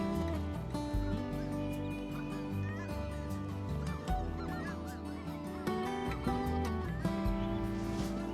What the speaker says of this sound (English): That's the white-fronted geese I was hoping to get.